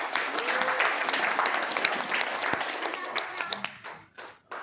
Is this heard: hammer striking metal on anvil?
no